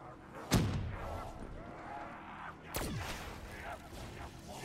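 Grenade blasts in the Call of Duty zombies map Origins: two sharp booms a couple of seconds apart, each with a rumbling tail, over a busy game background with faint voices.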